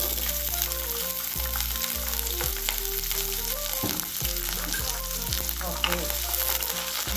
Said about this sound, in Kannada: ಫಸ್ಟು ಕ್ಯಾಪ್ಸಿಕಮ್ ಫ್ರೈ ಮಾಡ್ಕೋಬೇಕು.